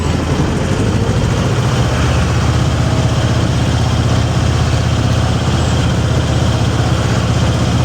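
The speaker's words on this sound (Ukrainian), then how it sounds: "Горе цей плуг суперово трактором Т-25." A T-25 tractor's engine drones loudly and steadily while it pulls a plough through a field, a continuous low rumble with no breaks.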